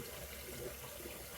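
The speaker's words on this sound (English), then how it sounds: "Now I'm going to run a little cold water." Cold water runs steadily from a bathroom tap during a wet shave, a soft continuous hiss and splash.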